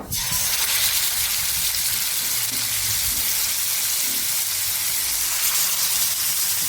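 Marinated mackerel fish frying in a pan over a medium flame, a steady, loud, broadband sizzle and hiss that holds continuously from start to finish with no talking.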